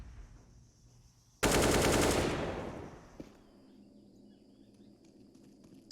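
Automatic rifle spray in Counter-Strike, a loud sustained burst of rapid gunfire lasting about a second, then a single sharp report and quiet game ambience.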